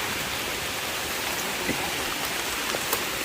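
Steady rain falls on a Thai forest during mushroom picking, a dense, even hiss of drops on leaves and ground with a few sharper nearby drips, continuous throughout with no talk.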